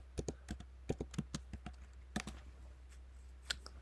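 A command is typed on a computer keyboard in a quiet room, with a quick, uneven run of crisp key clicks that pauses briefly midway, over a low steady hum.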